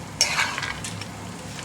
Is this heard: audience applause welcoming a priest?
no